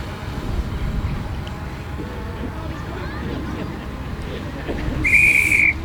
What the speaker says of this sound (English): Guns drawn and the whistle there blown to show the end of battle